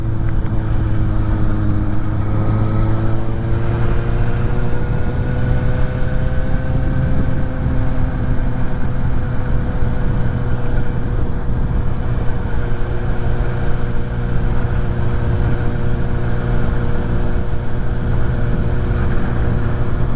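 A Suzuki GSX-S750 motorcycle engine hums steadily under riding, with loud constant wind rush and a smooth tone that rises slightly early on and then holds through a continuous ride.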